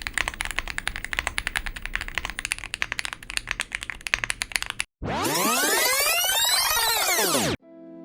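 Budget aluminum mechanical keyboard being typed on, with a rapid, close stream of crisp keystroke clicks for several seconds, followed by a sweeping whooshing effect.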